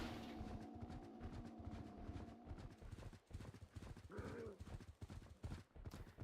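Horse galloping in the video game Zelda Twilight Princess, a fast, steady run of hoofbeats with a brief whinny near the end, fairly faint overall.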